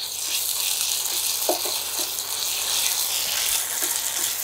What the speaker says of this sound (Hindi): इसे अच्छे से इस प्याज में भून लेना।